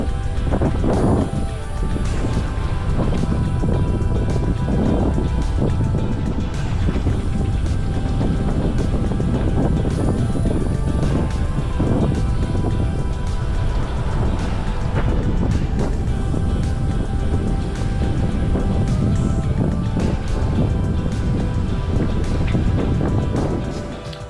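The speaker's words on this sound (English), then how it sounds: "Quite a pleasant sail across the Whitsunday Passage to Airlie." A sailing yacht runs under reefed main and full jib across the Whitsunday Passage, with steady loud wind buffeting and rushing water throughout, plus occasional knocks and thumps aboard.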